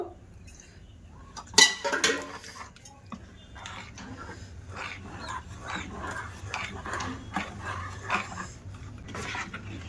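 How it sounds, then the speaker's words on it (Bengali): Rice batter being whisked with water in a bowl, a close, quiet run of rapid rhythmic scraping and clinking strokes after a sharp knock near the start. "এবার একটু জল দিয়ে দেবো জল দিয়ে ভালো করে ফেটিয়ে নেব"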